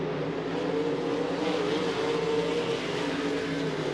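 RaceSaver sprint cars lapping at Eagle Raceway, a steady distant engine drone with a faint pitch waver as the cars circle the dirt track, moderately quiet and without voices.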